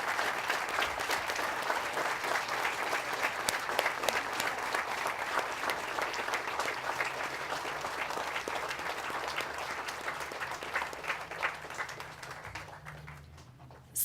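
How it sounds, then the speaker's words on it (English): An audience at a Veterans Day ceremony applauds veterans with steady, dense clapping that holds for about fourteen seconds before fading out at the end. "Please join me in showing our appreciation with a huge round of applause."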